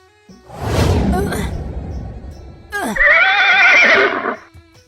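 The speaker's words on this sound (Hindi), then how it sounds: "अब मुझे घोड़े को काबू में करना होगा" A horse gives a heavy breathy snort, then, after a short pause, a loud, close, shrill whinny that rises and wavers for over a second before fading.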